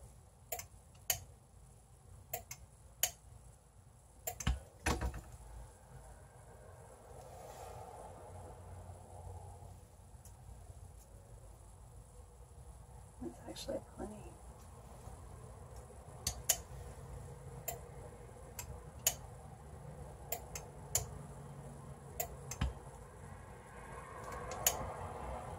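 Soap pods being cut, with scattered small crisp ticks and snips, some in quick pairs, faint and close over a quiet background with no talking.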